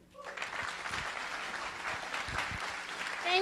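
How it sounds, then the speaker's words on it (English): Warm audience applause at a North American Taiwanese technology conference, welcoming a speaker to the stage; a full, steady patter of many hands clapping throughout, with no talk over it. "hope everybody can give her a very warm applause"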